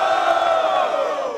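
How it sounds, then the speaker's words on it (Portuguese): Crowd at a Brazilian freestyle rap battle in Barueri, São Paulo, roars and cheers in a loud sustained shout that slowly tapers, voices blended into one mass of noise. "Barulho para as rimas do Apolo!"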